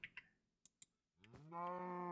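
A Minecraft cow in the Enigmatica 6 modpack gives one clear, drawn-out moo that ends the clip, preceded by a few quiet clicks and taps.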